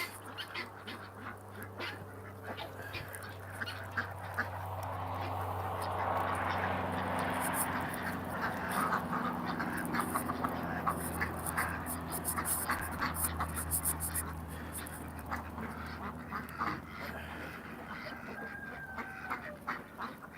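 A flock of farm ducks quacks and honks steadily while being fed on a very cold day, with feed being poured and handled nearby and people talking now and then.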